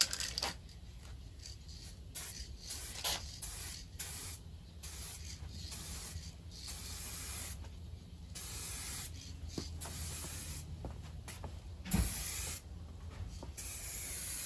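A spray gun lays clear coat over the front end of a 1985 C4 Corvette being repainted outdoors in a little wind. Close, steady hissing bursts run almost continuously with short breaks and a few small clicks, and no one talks.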